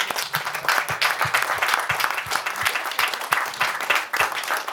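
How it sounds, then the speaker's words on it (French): A festival crowd claps warmly during the 2023 Festival du Goéland Masqué prize-giving ceremony, with continuous, close applause and many overlapping hand claps throughout. "que vous pouvez applaudir très fort."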